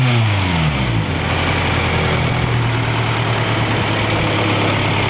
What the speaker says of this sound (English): There's a strut bar, and here I'll rev it a little bit.